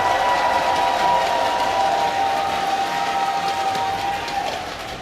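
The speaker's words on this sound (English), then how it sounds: "give a cheer for Acers MMA!" A crowd at an esports event cheers and applauds in a dense, steady wash of clapping and cheering that fades slightly toward the end.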